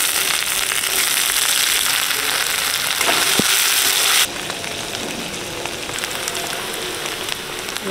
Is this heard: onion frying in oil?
yes